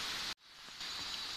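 Rain falling steadily in a tropical forest at Gunung Gading, Borneo, heard under an umbrella as a dense, even hiss that cuts out briefly before returning, with no voices.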